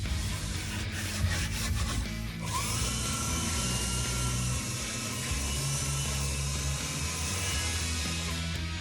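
A belt sander grinds across a walnut hardwood edge-grain cutting board, a loud, steady abrasive roar with a whining motor tone, close up, running continuously with no voices.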